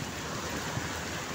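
Heavy rain pours down in a dense, steady hiss that fills the whole stretch evenly, with no let-up and no voices.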